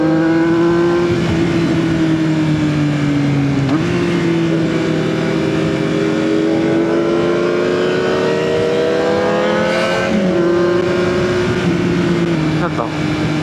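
A Honda CB motorcycle engine revs hard for a rev match on a road ride, its pitch rising and dropping through several throttle blips, loud and continuous throughout with wind noise and a rider talking underneath.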